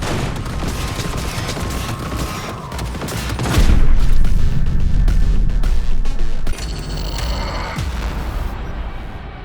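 Heavy gunfire in the Cyberpunk 2077 video game, with dense overlapping shots, bursts and booming impacts that swell louder midway, then settle into continued firing.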